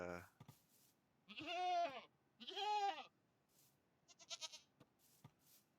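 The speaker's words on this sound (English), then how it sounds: "please don't kill these goats" Minecraft goats give two long, loud bleats, followed by a few shorter bleating bursts and some brief clicks from the video game.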